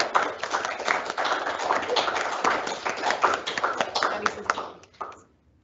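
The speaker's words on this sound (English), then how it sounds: "We give another round of applause because we're doing this." Seminar audience applauding at the end of a postgraduate research session, a dense steady clapping that runs for several seconds and then tapers off abruptly with a few last claps.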